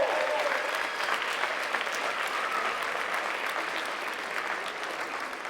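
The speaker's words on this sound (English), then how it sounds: "so applause for them." An audience at a Sound of Music stage show gives steady, dense applause throughout, loud and sustained at an even level with no talk over it.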